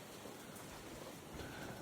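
Steady rain on a mountain-top trail shelter on Blood Mountain, a soft continuous hiss of drops pattering on the roof and surroundings, fairly faint and even, with no voices.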